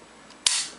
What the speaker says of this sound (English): fire it, check for the trigger reset, fire it again